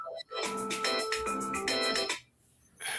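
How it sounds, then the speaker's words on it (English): A phone ringtone plays a bright, rapid run of repeated electronic tones, fairly loud and close, then cuts off briefly before starting again, with no talk over it. "Answer that phone"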